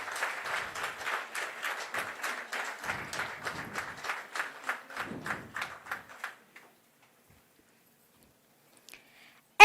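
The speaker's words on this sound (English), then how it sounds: "I request the audience for a resounding sound of applause." Audience applause at an academic conference award ceremony: brisk, rhythmic clapping from a moderate crowd, steady for about six seconds before stopping abruptly into near silence.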